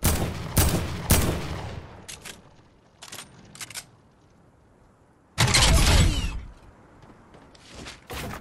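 Gunfire in the video game Fortnite, several loud bursts of shots with a long heavy volley near the end and quieter sounds in between.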